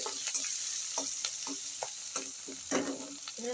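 Sliced onions with a pinch of salt fry in a pan for chicken kosha, a steady high sizzle with repeated scrapes and clinks of a spatula stirring through them.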